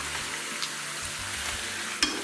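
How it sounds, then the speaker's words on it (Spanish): Drained pork meat sautéing with softened onion in a pan over low heat. A steady, moderate sizzle continues throughout, with a couple of brief stirring knocks and no voices. "Cuando la cebolla está pochada, pongo la carne escurrida."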